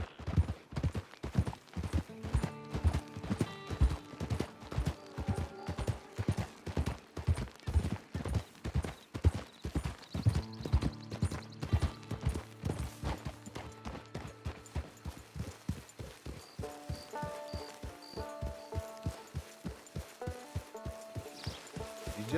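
Steady clip-clop of a horse's hooves in the Red Dead Redemption 2 video game, a walking rhythm of sharp hoof strikes that continues throughout, with a faint musical score behind it.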